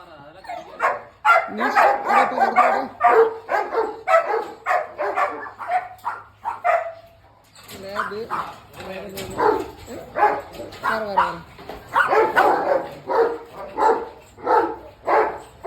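Puppies at a dog sale bark and yip in rapid, overlapping bursts, close and fairly loud, with a short whimper and brief pauses between the volleys.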